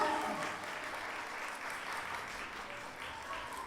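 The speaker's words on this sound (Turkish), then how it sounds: "Efendim alkışlarımız gelsin" Guests at a Kurdish wedding in Leipzig clap together in a steady, fairly distant wash of applause that fades slightly toward the end, with no speech over it.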